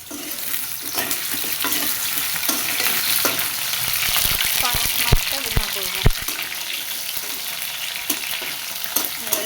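Potato pieces fry in a pan with oil while being browned, a continuous sizzle broken by scraping and clattering stirring strokes, with a faint voice briefly in the background.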